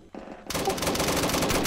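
Machine gun fire erupts after a brief lull into a loud, continuous, rapid burst that fills the rest of the moment, close and harsh with no talk over it.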